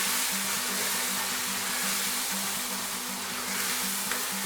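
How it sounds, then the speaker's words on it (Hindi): Spices sizzle in a pan with already-fried tomatoes for chana dal, fenugreek among them: a steady, bright frying hiss over a low, even mechanical hum, with no voices. "थोड़ा सा मसाले को भूनें।"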